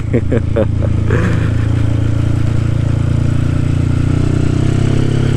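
A Honda Tiger motorcycle engine runs loud and close with a deep steady rumble, a few quick throttle blips near the start, then settles into an even idle.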